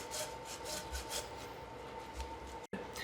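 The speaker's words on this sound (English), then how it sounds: "I'm gonna keep grating these" Fresh tomatoes rubbed across a box grater for bruschetta, a soft rhythmic rasping stroke repeated about every quarter second, close and steady, ending with a brief knock.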